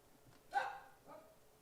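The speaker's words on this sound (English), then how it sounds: "Oh, that's the dog." A dog barks nearby during a casual online happy-hour call: one short bark followed by a softer second yip, with quiet room noise around it.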